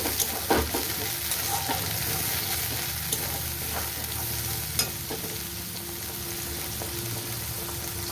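Spice masala for a cauliflower and bean poppy-seed dish, fried in a pan with a splash of water and stirred, giving a continuous close sizzle broken by scraping stirs and occasional sharp pops, with no talking.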